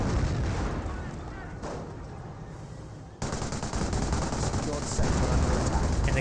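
Tank gunfire and shell impacts in Company of Heroes fill the scene with dense booming blasts and rattling fire, loud and continuous, with a voice commentating over the din.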